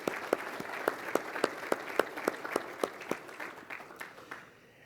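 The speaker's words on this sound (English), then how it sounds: "A round of applause to thank you." At a city address in Livonia, a small audience gives a round of thanks with distinct, spaced hand claps in an uneven rhythm, moderately quiet and thinning out toward the end.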